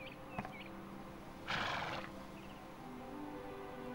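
A horse neighs once in Dragon Quest VIII, a short bright whinny standing alone over quiet game ambience.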